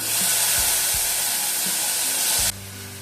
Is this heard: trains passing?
no